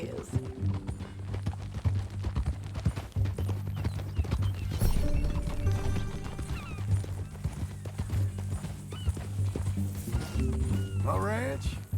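A horse in the Red Dead Redemption 2 video game clip-clops along at a steady rhythmic walk, hooves thudding under ongoing conversation between characters, with a brief whinny near the end.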